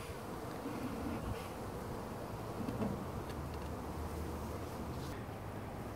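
A dense, continuous hum of many honeybees buzzing together at an open hive, steady and close, with no voices.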